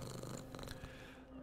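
A nervous cat in the video game Moonscars purring in a soft, continuous, low rumble, brief and quiet with no speech over it.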